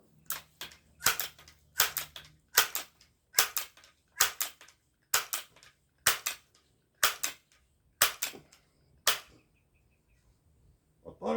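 Single gunshots ring out one after another at a steady pace during a penetration test, about a dozen sharp cracks with short pauses between them.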